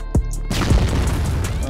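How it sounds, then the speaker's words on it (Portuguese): A grenade explodes in the CrossFire shooter game: a short, sharp bang followed by a booming, rumbling blast that decays over about a second. "Granada!"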